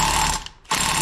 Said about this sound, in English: It's called a thread cleaner.